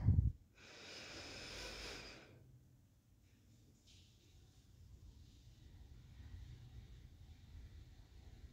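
A slow, deep breath taken in during a meditation exercise, heard as a soft, close airy inhale after a brief sniff at the start, then quiet room hiss.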